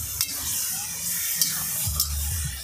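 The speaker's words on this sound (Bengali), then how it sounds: "রান্না করতে করতে তো একটু খিদে পেয়ে যায়, ওই জন্য একটু পকোড়াও ভেজে নেওয়া হচ্ছে।" Pakora frying in hot oil during a winter picnic cook-out, a steady close sizzle with a few sharp spatters and stirring sounds.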